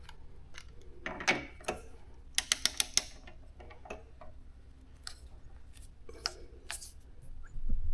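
A torque wrench tightens a kickstand bolt to 78 newton metres on a Suzuki GSX-S750 motorcycle, giving faint ratchet ticks and a quick run of four sharp clicks against quiet workshop background.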